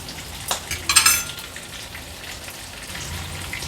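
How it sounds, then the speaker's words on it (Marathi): Prawns frying in a hot pan, a steady faint sizzle with a couple of louder spattering crackles early on, heard close with no talking. "आता दुसरी बाजू देखील मी अशीच फ्राय करून घेते 1 मिनिटभरासाठी।"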